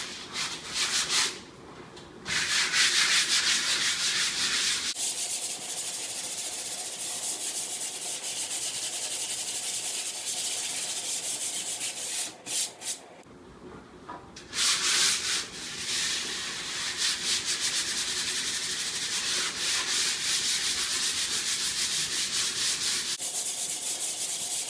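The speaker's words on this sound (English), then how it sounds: "That's the last bit of the sanding." Hand sanding of a dried drywall ceiling patch, a close, continuous scratchy rubbing in long stretches broken by a few brief pauses.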